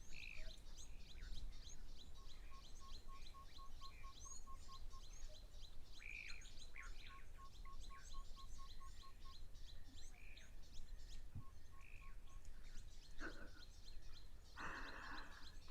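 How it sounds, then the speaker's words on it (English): A white-spotted flufftail calls from waterhole surroundings, a soft rapid series of evenly spaced hoots repeated in three runs, set among busy chirping birds and croaking frogs at moderate distance. "this is the sound of the wide spotted fluff tail"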